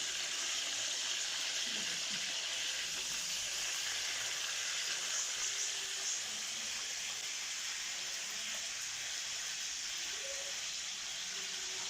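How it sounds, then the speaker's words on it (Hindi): Fish fries in hot oil in a home kitchen, a steady bright sizzle and crackle continuing evenly throughout without pause, fairly close, with no talking. "ऐसे ऐसे हम इसको फिश को पकड़ के ऐसे फ्राई करते रहेंगे"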